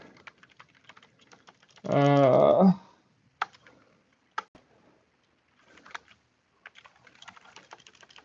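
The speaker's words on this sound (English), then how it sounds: "I'm typing it in chat right now." Light, irregular tapping on a computer keyboard in a quiet room, with a brief voice cutting in partway through.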